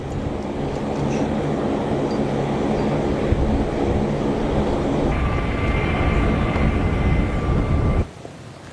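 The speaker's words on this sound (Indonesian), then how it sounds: "HHO-060 PEV Hawk yang terbang rendah di wilayah Iran" Military aircraft flying low over Iran roar loudly and continuously, a dense rushing engine noise that swells and then cuts off abruptly near the end, with no voices.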